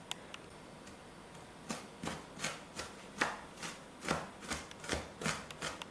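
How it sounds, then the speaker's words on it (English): A knife chops an onion finely on a board for Latvian pirags, about a dozen crisp, fairly regular strikes in a steady rhythm, close and moderately quiet, with no talking. "now we have to chop it finer than this, so you don't get it on a piece of onion on a tooth"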